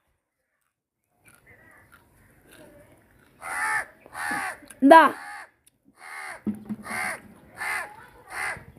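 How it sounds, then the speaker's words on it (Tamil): Several loud crows caw in a series of harsh, spaced calls close by, with a person's voice briefly calling out between them. "எந்த காக்கா கத்துச்சு?"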